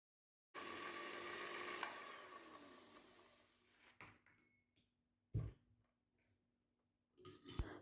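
Running on its lowest speed, a hand mixer blends margarine into banana cake batter with a steady, close whir. It then winds down and stops, followed by a few bowl knocks and clatters.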